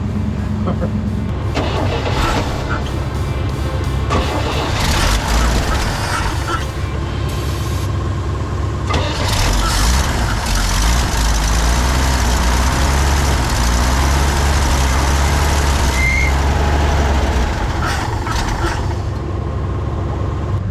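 A 1964 dump truck, run for the first time in 15 years, cranks and fires up, then settles into a rough, loud, low idle with some revving while people talk nearby.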